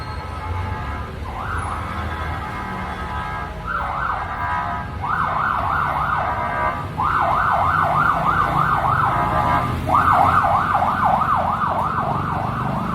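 An emergency vehicle siren passes, its rising and falling wail growing louder and repeating over steady background road noise.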